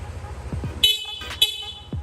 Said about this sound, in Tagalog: Tapos, stock horn.